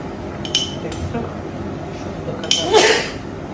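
A single quick sneeze rings out near the end, with a few light clinks of dishes and utensils in a kitchen before it.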